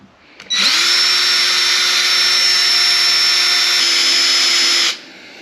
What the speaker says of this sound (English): So I'm just gonna keep on drilling.